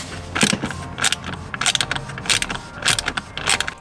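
Small wrench turning a T20 screw under a Tesla Model Y or Model 3 rear seat, heard as close, repeated ratcheting clicks and metallic scrapes in uneven bursts with no talking.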